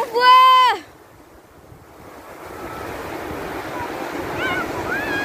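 Ocean waves washing onto a beach, a windy broad hiss that swells gradually after a brief high voice, with faint chatter toward the end.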